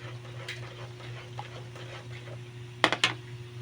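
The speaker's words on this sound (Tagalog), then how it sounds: "Need natin siyang haluin ng haluin para hindi magbuo-buo" Dinuguan being stirred in a pan, with soft scraping and light taps over a steady low hum, then a few sharp clinks of a utensil against the pan near the end.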